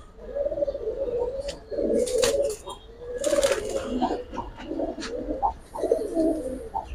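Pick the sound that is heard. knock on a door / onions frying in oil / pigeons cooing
pigeons cooing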